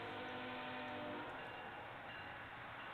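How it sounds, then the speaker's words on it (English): UPS freight train heading eastbound from Missouri into Illinois with three GE locomotives on the head end, rumbling steadily and loudly up close with a broad continuous roar that shifts slightly as it approaches. "This one is a UPS train that's coming into view."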